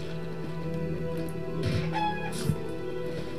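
Chickens in the video game Divinity 2 (Ego Draconis) cluck in a few short bursts over a steady game soundtrack hum, moderately close.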